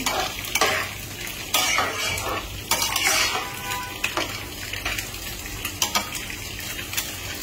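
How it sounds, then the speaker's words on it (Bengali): Fish fries in a pan with a steady sizzle, joined by repeated clanks and scrapes of a utensil stirring and turning against the metal, close and clear with no talking. "আর হচ্ছে এখানে হচ্ছে মাছ ভাজি করা হচ্ছে।"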